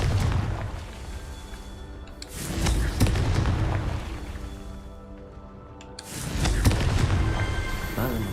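Confringo fire spell blasts in Hogwarts Legacy: three loud, booming explosions with rumbling, crackling tails, each swelling and fading in turn, dense and close.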